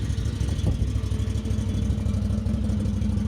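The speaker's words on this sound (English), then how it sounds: "Exhaust sounds nice and good and throaty. Here's the sound. Got a nice V-twin." A low, steady V-twin engine rumble from a Can-Am Maverick Sport DPS 1000R with a throaty, pulsing stock exhaust note, idling loud and close with no talking.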